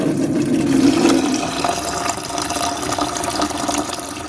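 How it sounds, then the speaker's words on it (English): Old coolant gushing out of the radiator drain plug on a Mazda MX5, a steady close splashing stream that stays loud and continuous with no voices. "we just open the drain plug and all of the water will then drain out of the system"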